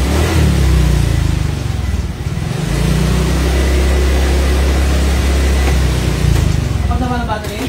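A motorcycle engine revs loud and close in a steady, throaty drone that rises and falls slightly, with voices talking over it.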